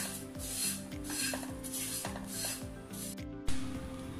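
Dry poha flakes roasted on low flame in a pan, giving a steady close scraping and rubbing rasp with a regular rhythmic stirring pattern and a sharper scrape near the end.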